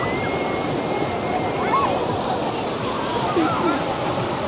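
Steady ocean surf rolls at a Southern California beach in a continuous broadband wash, with faint voices and small sounds drifting through now and then.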